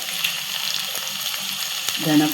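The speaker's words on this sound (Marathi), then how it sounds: "भाजून घ्यावी लागते, परतून अशी कांद्यामध्ये परतून." Onions with coriander powder fry in a pan for pav bhaji, giving a close, continuous sizzle with faint stirring scrapes, and a louder burst of frying near the end.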